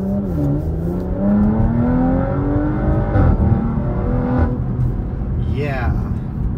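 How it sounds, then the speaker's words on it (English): A Porsche GTS is driven spiritedly in automatic mode, its engine and intake droning loudly up through rising revs with a gear-change dip midway and another climbing sweep near the end, all close and sustained. "very much can tell the difference between the S and the GTS. It even sounds different, like you hear more intake noise."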